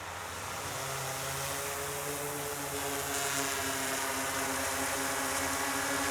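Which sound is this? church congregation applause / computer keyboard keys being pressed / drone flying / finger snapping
drone flying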